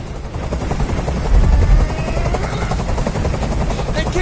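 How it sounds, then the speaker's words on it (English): In the video game Detroit: Become Human, a loud helicopter roars close by, its rotor chopping in a rapid steady thump that swells briefly midway and stays dominant throughout. "Tell that helicopter to get out of here!"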